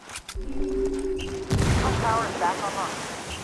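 A frag grenade thrown and exploding in Ghost Recon Wildlands: a short low rumble and clink, then a loud sudden blast midway that rolls off into a long decaying rumble with scattered debris.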